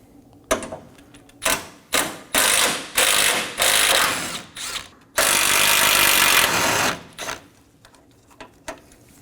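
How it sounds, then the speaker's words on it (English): A ratchet wrench backs out two 8mm bolts on a Dodge Durango during AC condenser work, heard as a series of loud, close bursts of rapid clicking, the last one long and steady, with short quiet gaps between. "Now I'm going to go ahead and remove my 2 8mm bolts"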